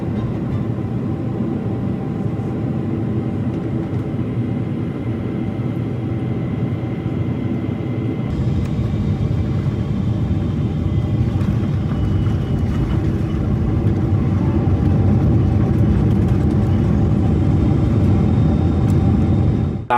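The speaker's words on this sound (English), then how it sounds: "So our landing was very smooth with a great view landing into Dallas." American Airlines jet landing into Dallas, heard from inside the cabin as a loud, steady broadband roar and low rumble that thickens partway through and holds to the end, with no voices.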